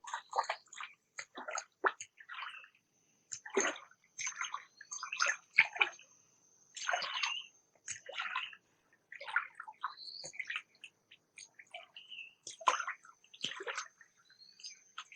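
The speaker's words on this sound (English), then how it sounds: "the men at both ends splash the water to keep the fish within the center of the net" Pond water splashes and sloshes in short bursts as men at both ends of a dragged fishing net beat the surface, some louder than others, in an irregular rhythm with quiet gaps between.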